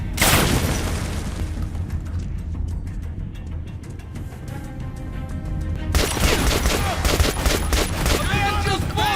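A grenade goes off amid dense gunfire in the shooter game Metro Last Light, a loud, continuous barrage of shots and booms with a heavier burst partway through, and a voice talks over the battle.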